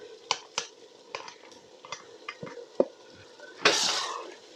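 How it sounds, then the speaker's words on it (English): Meat is stirred into masala in a pot for aloo gosht balti, with a series of scattered metallic scrapes and clinks from the utensil and a brief louder sizzling rush toward the end. "Mix the meat in."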